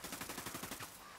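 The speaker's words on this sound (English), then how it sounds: "Tango heard the gunshots." Rapid automatic gunfire in the video game Ghost Recon Wildlands, a fast steady burst of about a dozen loud shots that stops abruptly, with no voices.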